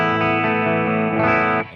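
Electric guitar through a pedalboard with compressor, distortion and a buffer engaged, a sustained distorted chord ringing loud and close, shifting slightly near the end before dropping off.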